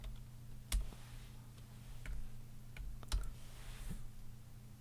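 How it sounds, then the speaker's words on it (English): Sparse, soft keyboard taps sound close by over a low steady hum, a handful of separate clicks spaced irregularly as a short sentiment is typed for a printed card. "So I could come over here again and type in from the Carusos."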